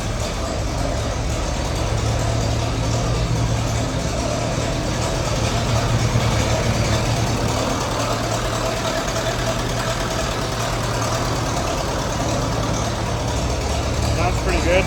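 An old Massey Ferguson TEA 20 tractor engine, freshly worked on for carburetor trouble, idles steadily nearby with a continuous low rumbling throb throughout, and someone speaks over it.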